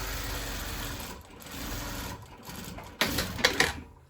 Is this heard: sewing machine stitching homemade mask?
yes